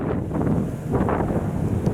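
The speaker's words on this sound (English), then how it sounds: "It's clearly a little bit of a windy day." Wind buffets and rumbles across the microphone in a steady, gusty roar, with no voices.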